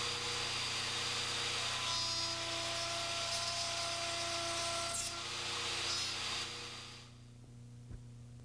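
A router bit cuts trial joints into wood test pieces on a jig fixture, a loud steady whine with grinding cut noise that winds down near the end.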